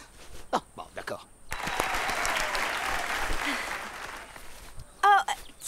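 Brief burst of applause in a children's animated episode, a crowd clapping for a few seconds between short spoken lines and other effects.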